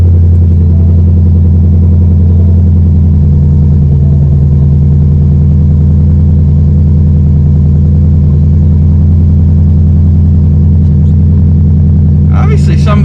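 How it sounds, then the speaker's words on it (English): A Ford Mustang GT S550 fitted with an MBRP race catback exhaust rumbles loud and deep through a cold start. It holds a steady, heavy idle throughout, with a short clatter near the end. "let's go ahead and give it another cold start"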